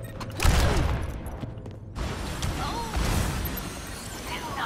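Shotgun blasts in the Overwatch 2 video game on the Oasis map, a loud boom followed by several fainter shots and clatter amid chaotic combat noise.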